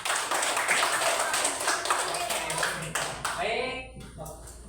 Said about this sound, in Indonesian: Ya, boleh tepuk tangan pada kelompok 3.